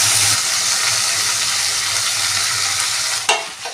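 Tomatoes and chillies fry with curry leaves in a pan for a taro root stir-fry, a loud, steady close-up sizzle with stirring scrapes and a sharp spoon knock near the end.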